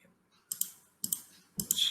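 A computer mouse clicks on a web page: three quiet, close double clicks, each a sharp tick-tick, about half a second apart.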